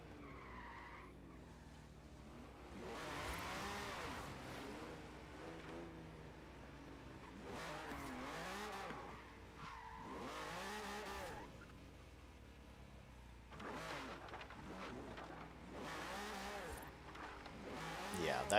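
Racing cars in a video game, one a rear-wheel-drive blue BMW, skid and squeal with tires screeching over a steady engine drone, in long sweeping bursts, with quiet voices in the background.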